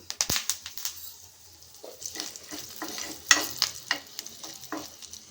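Red chillies, turmeric and curry leaves sizzle and crackle in hot oil as a tempering for gongura chutney, with close, sharp pops scattered over a steady frying hiss.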